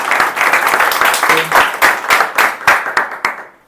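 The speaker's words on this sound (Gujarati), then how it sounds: "તાળી પાડો અલ્પેશભાઈ." Audience clapping at an Independence Day speech contest, individual hand claps clearly separated in a brisk, slightly uneven rhythm, fairly close and loud, thinning out toward the end.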